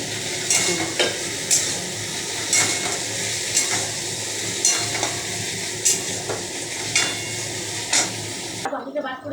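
Prawn masala for malaikari fries with a steady close sizzle while a spoon or spatula stirs and scrapes the pan in regular strokes, the frying carrying on throughout before cutting off sharply near the end.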